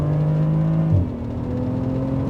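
A BMW Z4 sDrive35is pulls hard in second gear from about 3,000 RPM, its engine droning loud and close with a brief pitch drop partway through before the steady whir resumes.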